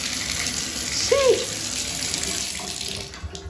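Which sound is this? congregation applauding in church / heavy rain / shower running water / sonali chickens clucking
shower running water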